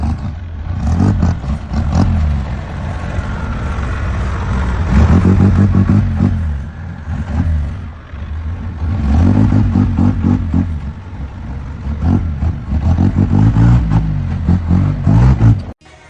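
An overloaded Chevrolet D20 pickup truck, heavily laden with a truck-sized cargo, drives past with a loud, rumbling engine that surges and fades in waves, with some rattling clatter.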